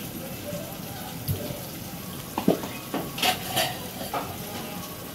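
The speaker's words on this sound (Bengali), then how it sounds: "আমি মশলাটা ভালো করে কষিয়ে নেব" Spice paste with ground nut paste and salt being stir-fried in a pan, giving a steady low sizzle broken by a few scraping stirs and clinks, close and moderately loud.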